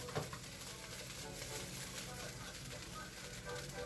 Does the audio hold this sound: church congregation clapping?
no